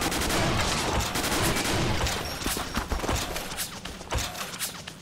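Dense bursts of gunfire fill the action video game 50 Cent: Blood on the Sand, with loud, rapid overlapping shots that thin out into scattered individual blasts toward the end.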